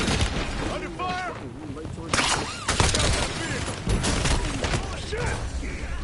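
Gunfire in the Black Ops 7 Warzone video game, with bursts of shots and impacts in a dense, busy mix, partly under voices talking over game music and effects.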